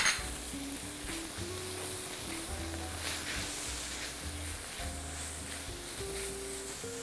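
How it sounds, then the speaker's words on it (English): Chopped garlic and minced meat sizzle steadily in a hot pan, a close, continuous frying hiss with occasional clinks and stirring scrapes against the cookware. "I'd like to fry this first, the minced meat."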